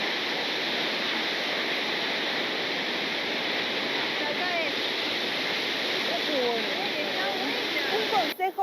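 A steady, loud broadband roar of a waterfall in rural Patagonia fills the whole stretch without pause, with faint voices talking over it in the second half.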